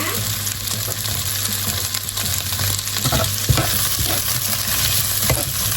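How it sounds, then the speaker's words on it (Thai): Chicken stir-fried in a pan with onion, sweet peppers and corn, a steady loud sizzle with scraping stirs throughout, close up, and someone talking quietly over it. "ผัดเขาให้สุกสักเล็กน้อยให้หอมนะคะ"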